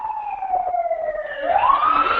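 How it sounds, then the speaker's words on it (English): Emergency vehicle siren, likely police or fire, wailing in the background as one steady pitch that slides down and then sweeps back up, with no talk over it. "Some sirens in the background here."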